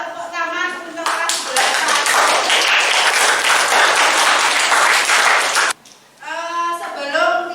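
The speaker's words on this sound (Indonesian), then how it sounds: "Tepuk tangan untuk kelas" Classroom applause from a group of students, a loud, dense burst of clapping lasting several seconds, with voices before it and after a brief pause, near and filling the room.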